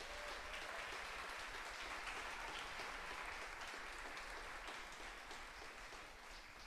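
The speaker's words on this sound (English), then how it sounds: "Would you like to stand up for applause?" At a church service, a congregation applauds in a dense, continuous wash of clapping that holds steady for several seconds, sounding faint and somewhat distant.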